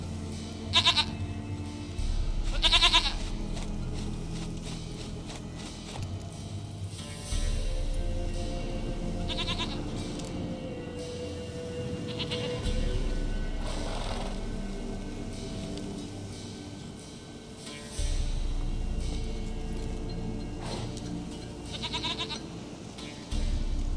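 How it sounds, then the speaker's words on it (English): A goat bleats several times in the video game Witcher 3, sharp wavering calls spaced across a steady bed of game ambience and low background tones. "Goat of mine, dearest, sweetest goat."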